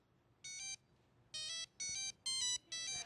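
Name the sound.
Pink Panther monophonic ringtone on a Motorola cell phone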